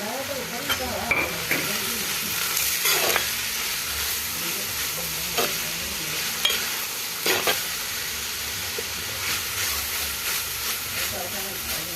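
Kerala-style beef fried with ginger garlic paste sizzles and hisses steadily up close while a spoon stirs and scrapes the pan in repeated strokes.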